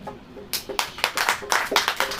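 An audience claps during a church sermon, a short burst of sharp hand claps in an uneven rhythm, fairly close and with no talk.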